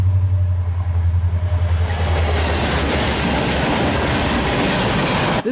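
A CSX freight train rumbles past close by at Nickajack Lake, Tennessee, a steady loud roar of wheels and cars with rhythmic clatter throughout, with no voices.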